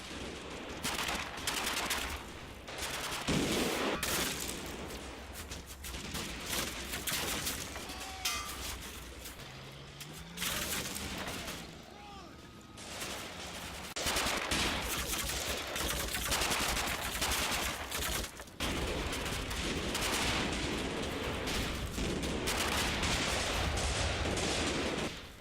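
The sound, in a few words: machine gun fire in Combat Mission Final Blitzkrieg video game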